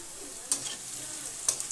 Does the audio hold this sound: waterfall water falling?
no